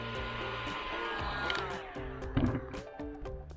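A corded Metabo H1600 heat gun on setting 3 blows with a steady, close airflow roar, joined by a few crackling and ticking sounds partway through.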